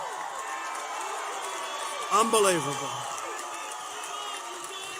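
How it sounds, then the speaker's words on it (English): Rally crowd at a campaign speech in Cedar Rapids, a steady roar of voices with a brief burst of whoops and cheers in the middle, while someone speaks over it. "And I want to thank, this is some crowd of people."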